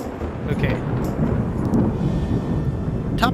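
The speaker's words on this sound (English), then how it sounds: "I feel like the lightning is probably loud." Thunder from a lightning effect in an adventure video game: a loud, sustained rumbling roar with rain-like hiss, steady throughout with no talk.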